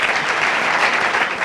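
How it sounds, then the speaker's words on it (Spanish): An audience applauds steadily and loudly at a popular science lecture, dense clapping throughout with no talk over it. "un aplauso para ADC Alicante."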